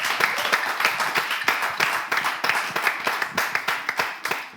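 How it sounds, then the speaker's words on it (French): A crowd applauds an artist at a show, with brisk, distinct hand claps in a lively, somewhat rhythmic pattern, close and fairly loud throughout. "On applaudit l'artiste."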